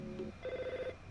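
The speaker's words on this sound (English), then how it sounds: "Phone call, phone call." A telephone rings in EarthBound, a short chiptune-style ring: one brief buzzy tone followed by a longer, higher sustained ring, clear and close.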